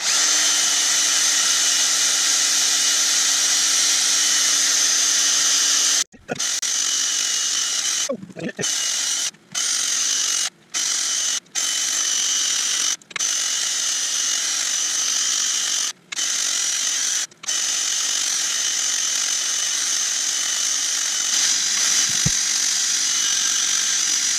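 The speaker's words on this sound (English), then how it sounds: "A little bit of sanding." A power sander whirs steadily at close range on a wooden burl bowl on a lathe, running almost nonstop with several brief cutoffs where it stops and restarts.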